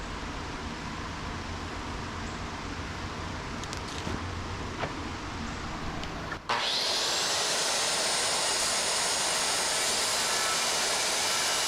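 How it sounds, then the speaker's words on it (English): A sawzall reciprocating saw cuts through wet wooden boards, a steady rough buzzing rasp that continues for several seconds, then shifts to a brighter, harsher whir partway through, close and fairly loud. "we're gonna have to get fancy with a sawzall"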